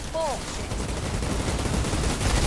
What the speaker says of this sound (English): why am I using a shotgun here?